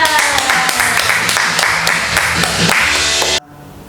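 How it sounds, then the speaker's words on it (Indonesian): Loud, close clapping at a children's church worship service, brisk hand claps sounding together over a busy background before cutting off abruptly near the end. "Mari beri tepuk tangan yang meriah untuk Tuhan kita."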